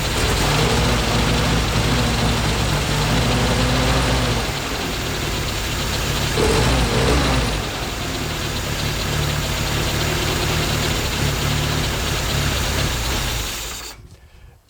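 Rough, uneven idle from a car engine fitted with new spark plugs, a continuous near rumble with a brief swell midway before it cuts off at the end.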